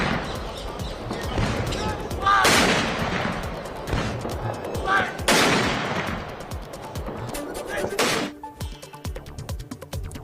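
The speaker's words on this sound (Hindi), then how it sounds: "तोपों की सलामी दी गई।" Powerful cannon blasts of a 17-gun artillery salute at the state funeral of Indian Chief of Defence Staff General Bipin Rawat boom out one after another at spaced intervals, each a loud broadband crack with a rolling echo, amid crowd noise and murmuring voices.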